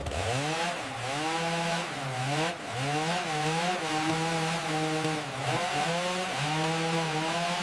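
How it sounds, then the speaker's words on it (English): Several chainsaws run continuously during site clearance, cutting wood, roots and brush, their engine whine rising and falling steadily as the blades bite, loud and close with no pauses. "Keep the chainsaws running"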